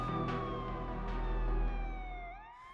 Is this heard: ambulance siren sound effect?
yes